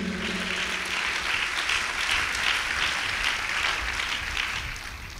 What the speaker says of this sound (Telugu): చప్పట్లు కొట్టొచ్చుగా గట్టిగా సంతోషంగా